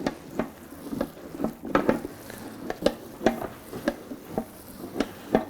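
Ground meat and fat being mixed by hand for homemade German cheddar bratwurst, with a series of soft, wet slaps and squelches at an uneven rhythm, close by and without talk.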